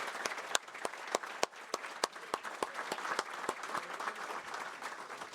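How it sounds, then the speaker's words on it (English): An audience at a golf hall of fame induction ceremony applauds steadily, with individual sharp claps standing out over a dense wash of clapping; no talking. "Let's give one more round of applause"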